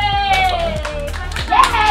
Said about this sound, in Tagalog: Dali, palakpak, palakpak!